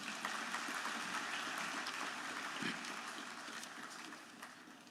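Continuous crowd applause at a graduation ceremony for a minister, an even rain-like wash of many hands clapping that fades slightly toward the end.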